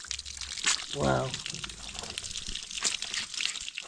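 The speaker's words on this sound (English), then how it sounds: "Look, they fetch water here." Clean water running at a village water collection point in Africa, a continuous splashing flow under an excited voice and other chatter nearby.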